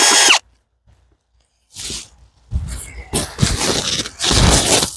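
Power drill whirring in short bursts as it drives screws into wooden beehive parts during preparation of hives for winter, close and loud, with a pause before the motor starts again.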